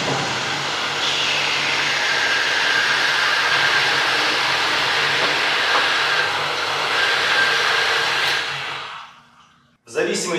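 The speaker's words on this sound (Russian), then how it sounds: "Включаем насос." A BrexFLOW 5000 heating-system flushing pump is switched on and runs with a loud, steady motorized whir and hiss for about nine seconds, then cuts off abruptly, followed by a short clunk.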